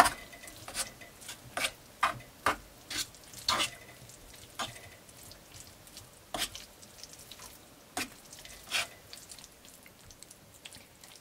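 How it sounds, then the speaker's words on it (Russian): Boiled spaghetti is stirred into a pan of cooked vegetables, giving irregular wet scraping and clattering strokes with soft sizzling in between, moderately close and without talk. "Теперь в нашу овощную массу добавляем спагетти, которые я отварила ранее. И перемешиваем."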